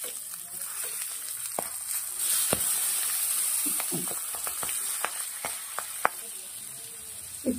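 Stuffed chili parwal (pointed gourd) going into hot oil in a pan sets off a steady, close sizzle, with sharp crackles and pops scattered throughout.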